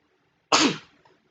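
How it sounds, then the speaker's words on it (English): A single close, sharp human sneeze bursts out of silence and fades quickly, followed by a faint breath. "Hold on, I might have a sneeze."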